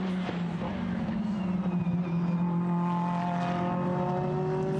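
A Kessel Racing Ferrari 458 GT race car at a Blancpain GT practice session in Hungary drones with a high, rising engine tone as the throttle is feathered through a corner, under commentary.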